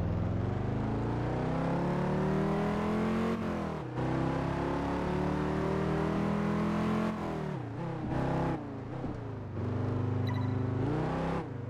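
A loud Dodge Viper V10 sports car engine in a racing video game roars and revs through rising gear shifts, with brief drops between gears, steady and close throughout.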